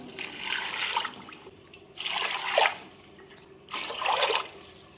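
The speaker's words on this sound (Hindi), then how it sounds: "अब हम इसके अंदर पानी ऐड करेंगे।" Bowlfuls of water pour into a cooking pot for chana pulao in three separate splashing bursts, close and clear, with quiet pauses between pours.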